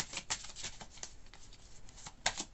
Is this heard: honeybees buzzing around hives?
no